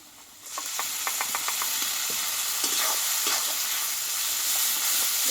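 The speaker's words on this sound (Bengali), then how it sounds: "পেঁয়াজের সঙ্গে মশলাটা আমি ভালো করে কষিয়ে নেব।" Onion and ground spice paste frying in a pan for a home-style Bengali chicken curry: a loud continuous sizzle that starts abruptly, with scattered clicks and scrapes of stirring.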